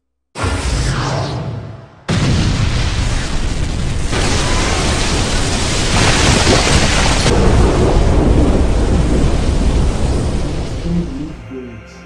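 The Almighty Push blast from the Naruto anime hits as a loud, sustained roaring explosion. A brief burst cuts off, then a massive rumbling whoosh swells and holds for about ten seconds before dying away.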